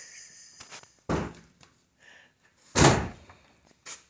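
A Jeep Grand Cherokee door closing, with a couple of solid thunks and smaller knocks and clicks around them, nearby and without talk.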